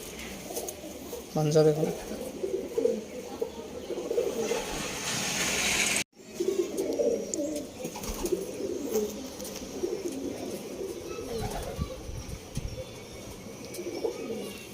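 Pigeons coo in a loft of Arsad and Andhra birds, soft repeated throaty coos with some flapping and rustling, close by, partly under a man's speech.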